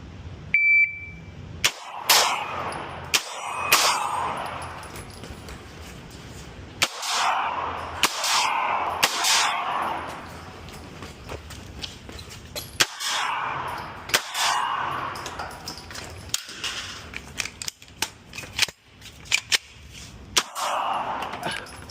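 A shot timer beep opens a live-fire practice run, followed by a string of sharp, close gunshots in irregular bursts with pauses between, echoing over an outdoor range.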